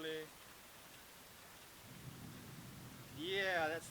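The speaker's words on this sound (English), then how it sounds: "Yeah, that's thunder." Thunder gives a low, muffled rumble that swells midway through steady soft rainfall heard from a porch. Brief voices come in at the start and again near the end.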